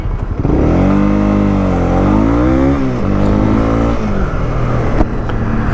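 A Honda CB250R motorcycle engine revs up and down through the gears while riding, loud and close, with rising and falling pitch and a shift in the middle.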